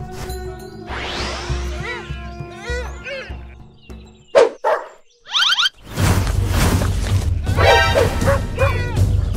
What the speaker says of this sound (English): Gray wolf. Highly adaptable apex predator and intelligent pack hunter.